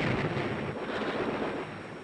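Bombs from bombardiers exploding over a group of ships in wartime newsreel footage, a continuous heavy rumbling roar of blasts that eases slightly toward the end.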